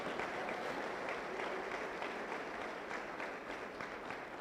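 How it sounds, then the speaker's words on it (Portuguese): A church congregation claps together during a sermon, a dense, steady applause held at an even level throughout at a moderate distance. "Vamos aplaudir ao Senhor por isso"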